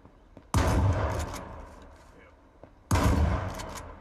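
Gunfire in the video game H1Z1 comes in two sharp, loud bursts of shots about two seconds apart, each ringing out and fading, with quieter background noise between them.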